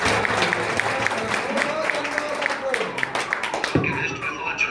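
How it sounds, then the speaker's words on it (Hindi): An audience at a religious ceremony applauds, a dense, steady wash of clapping that runs the whole time at moderate loudness. "सब लोग तालियां बजा रहे हैं आपके।"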